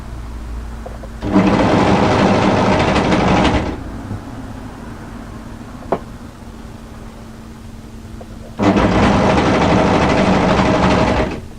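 An overlocker sews ribbing onto drop-crotch joggers in two loud, close bursts of fast, steady whirring stitching, each lasting a couple of seconds, separated by a quieter pause with a single small click.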